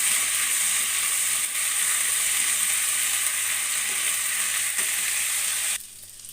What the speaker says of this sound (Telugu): ఇవన్నీ మునగాకు వేస్తాను లేత మునగాకు చక్కగా మధ్యలాగా కలిపేసుకోండి